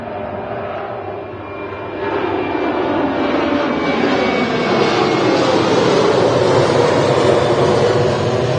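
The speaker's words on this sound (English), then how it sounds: "It's a 737 going to Turin." A TUI Boeing 737 jet departing an airport for Turin, its engine roar loud and close, building after a brief dip into a broad, steady rushing thunder.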